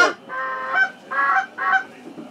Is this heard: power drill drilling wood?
no